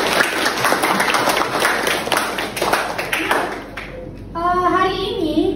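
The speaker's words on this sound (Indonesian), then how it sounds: "Benar sekali, tepuk tangan dulu." Schoolchildren in a classroom clap together in a quick burst of close, brisk claps that stops abruptly, followed by a teacher speaking.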